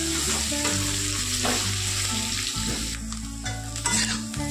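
Sliced bitter gourd frying and sizzling in hot oil, a steady crackle punctuated by repeated stirring scrapes, close and continuous with no talking.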